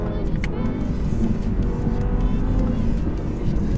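An Audi R8 sports car engine drones steadily while driving, a loud continuous rumble and whir from inside the cabin with no talking.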